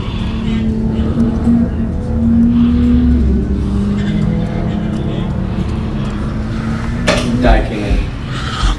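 LSM3 race car at speed on the Buttonwillow circuit during a time-attack session, its engine a steady loud drone that rises in pitch, with a sharp burst near the end and commentary running over it.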